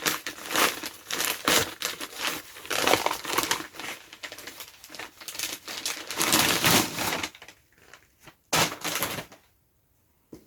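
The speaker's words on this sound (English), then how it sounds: "today I've got another Crochet Society box to open up, so cue lots of rustling." Packaging from a Crochet Society crochet subscription box crinkles and rustles close up in bursts while being unboxed, the crumpling trailing off into brief quiet near the end.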